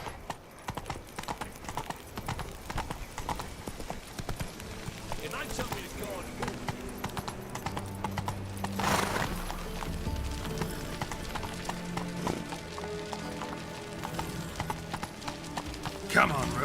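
Hooves of Roach, a horse in the video game The Witcher 3, clip-clop at a rapid gallop throughout, mixed with game music and sound effects, with a voice speaking over it.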